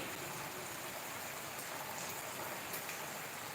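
Steady rain falls continuously, a dense broadband hiss of drops on surfaces, even and moderately distant with no voices.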